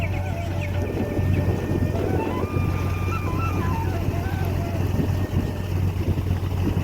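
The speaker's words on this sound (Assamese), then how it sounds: "আমাৰ ফেৰীখন যোৰহাট নিমাতী ঘাটৰ পৰা আহি এতিয়া অলপ সময় পাছত কমলাবাৰী ঘাট এয়া দেখিছে" Ferry engine drone on the Brahmaputra river, crossing from Nimati Ghat in Jorhat toward Kamalabari Ghat, with a steady low hum, wind and water wash throughout, and a faint tonal whine rising and falling above it.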